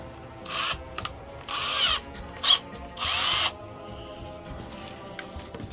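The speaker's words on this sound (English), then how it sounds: "This is a really good drill." A power drill whirs in three short bursts of about a second each, close and fairly loud, separated by brief pauses and a sharp knock, with no talking.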